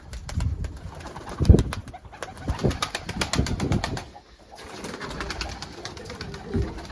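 Tumbler pigeons coo in low, soft bursts, with occasional wing flaps and rustling nearby, no talking.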